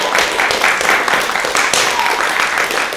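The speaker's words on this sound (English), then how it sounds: "you, the audience, now are going to cheer for who you want out of these 4" A live improv audience claps and cheers for a fighter in a comedy Dungeons & Dragons show, a loud, dense burst of applause with whoops, close and continuous throughout.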